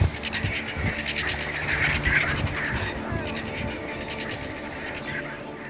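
Birds feeding on a carcass squabble with harsh, overlapping squawks and cries at close range over a steady background of rustling and wind.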